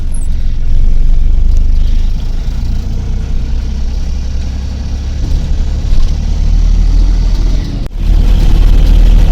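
Truck driving along a road, heard from inside the cab as a loud continuous low engine rumble with steady road noise, a short dip near the end and no voices.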